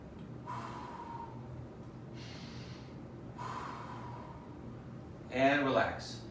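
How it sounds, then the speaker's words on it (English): Slow, deep yoga breaths taken while holding a sphinx pose: soft breathy inhales and exhales repeat in an even rhythm, close and quiet, with a sharper audible gasp near the end. "Hold and take 3 breaths."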